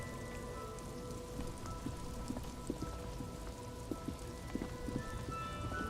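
Steady rain in the video game Disco Elysium, an even wash of falling drops with scattered soft patters, moderately loud and continuous with no voices.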